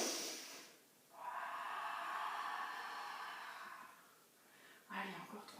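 Forceful breathing during an intermediate Pilates waist workout: a long, loud, airy exhale held for several seconds, then a shorter sharp breath, close to the listener.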